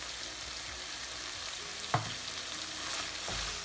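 Shrimps with garlic, chili and dill are stirred in a frying pan, a soft steady sizzle with a single sharp scrape of the utensil midway and light stirring noises after.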